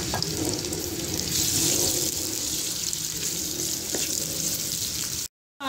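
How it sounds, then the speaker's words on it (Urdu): Onions frying in hot cooking oil for mutton karahi, a dense, steady hiss and crackle that fills the whole stretch before cutting off abruptly into silence. "پانچ منٹ میں نے پیاز کو فرائی کیا ہے کوکنگ آئل میں"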